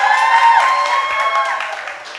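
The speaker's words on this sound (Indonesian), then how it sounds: "tepuk tangan untuk perempuan kita nih" A seminar audience, mostly women participants, claps steadily for the women in the room. The applause runs throughout, bright and fairly close, fading toward the end, with a sustained tonal ring over it.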